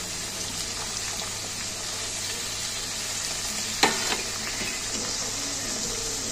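Onion, ginger, garlic and grated papaya fry in oil for Bengali mutton kosha, a steady close sizzle with one brief scrape of the stirring spoon partway through.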